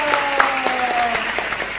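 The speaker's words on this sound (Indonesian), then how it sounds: "Tepuk tangan dulu." A short burst of audience applause at an Indonesian talk-show style event, brisk steady clapping from a crowd with a voice faintly present beneath it.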